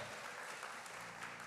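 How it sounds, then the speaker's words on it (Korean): A church congregation applauds during a Sunday worship service, steady dense clapping filling the room for the whole stretch with no voices over it. "오늘 이 시간 우리 가운데 임하신 성령님께 감사와 영광의 박수를 올려드립니다"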